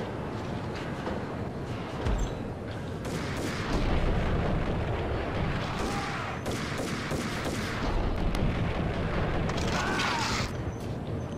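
Frag grenades blow up in Max Payne gameplay, a run of heavy booms and crackling blasts piling over one another, loud and close, with scattered debris clatter between bursts.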